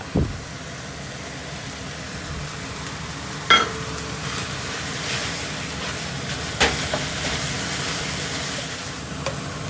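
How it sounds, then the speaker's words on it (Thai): Minced frog with holy basil stir-frying in a hot pan, a steady sizzle running throughout with a few sharp clanks of a utensil against the pan. "แล้วก็ผัดให้เข้ากันนะคะ เมื่อสุกดีแล้วก็ใส่ใบกะเพราลงไปค่ะ"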